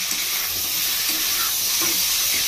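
Desi chicken being browned in a pan over a medium gas flame gives a steady broadband sizzle and hiss, with faint scraping stirs underneath, close and continuous with no voices.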